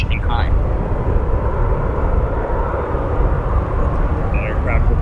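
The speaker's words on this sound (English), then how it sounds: "Our next heavy arrival, China Eastern Airlines, a Boeing 777-300, like 7051 that will be arriving from Shanghai." China Eastern Airlines Boeing 777-300 arriving at Chicago O'Hare airport, heard as a loud steady jet engine roar that holds for the whole stretch, with a few faint bird chirps over it.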